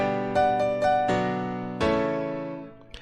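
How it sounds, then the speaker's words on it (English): Dry acoustic piano with no equalization, a few struck notes and chords ringing out and decaying, played alone and close. "So if we listen without anything attached to the piano, it sounds like this."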